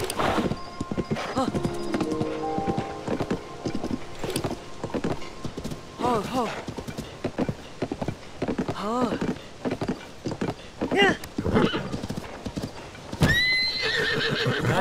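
Horses neigh repeatedly in The Legend of Zelda: Tears of the Kingdom, with hooves clip-clopping throughout and occasional voices mixed in, close and fairly loud.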